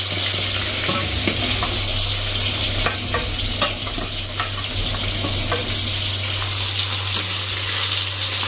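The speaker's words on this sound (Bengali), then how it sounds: "তার আগে চলো মাছটা ভেজে নিই" Snakehead (shol) fish frying in hot oil, a loud, close, continuous sizzle with occasional crackles and spatters and a low steady hum beneath.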